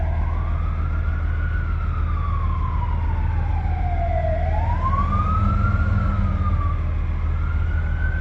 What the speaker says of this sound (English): Seen the fire department go by, a cop, and then looked like the fire chief following him up.